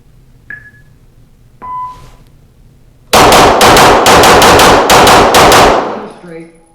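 Walther PDP Match pistol fired in a 12-shot steel target drill: two sharp metallic pings, then a rapid string of loud close gunshots with steel clangs in quick, evenly paced pairs, ending in ringing decay.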